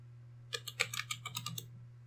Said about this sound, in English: let's type in LibreOffice.